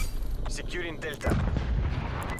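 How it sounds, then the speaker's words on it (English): Artillery strike in the Call of Duty Black Ops Cold War multiplayer alpha: a dense, loud barrage of booming blasts that swells to a heavier rumble midway and keeps pounding to the end, with game voice chatter mixed in. "Artillery awaiting target"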